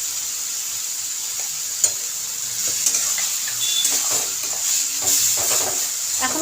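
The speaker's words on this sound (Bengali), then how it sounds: "একটু ভালো করে নেড়ে দিতে হবে। আর এই সময় গ্যাসটাকে সিম করে রাখতে হবে।" Ridge gourd fries in a pan with turmeric, sizzling steadily and close while a utensil stirs it, giving occasional light scrapes and clicks against the pan.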